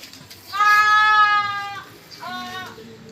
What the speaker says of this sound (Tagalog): mga kambing natin nandito si Maxi yan yung galing kalapan oh